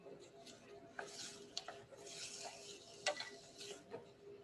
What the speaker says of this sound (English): We let that saute a few minutes